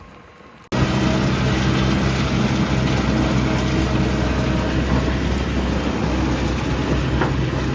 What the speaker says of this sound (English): Will's just gonna get the beet harvester warmed up